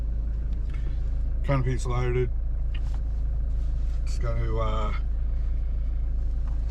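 A fully loaded car with a loaded canopy cruises along a road with a steady low engine and road rumble throughout, while someone talks over it in two short stretches.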